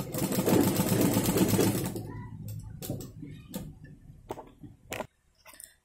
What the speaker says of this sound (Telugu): షోల్డర్స్ జాయిన్ చేసుకున్నాను, డబల్ స్టిచ్ చేసుకున్నాను